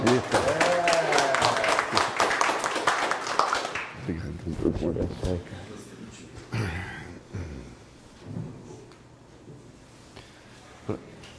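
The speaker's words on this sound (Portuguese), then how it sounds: "Salve de palmas, por favor." An audience at a talk on age diversity claps in a burst of applause for several seconds that fades out, followed by a speaker talking.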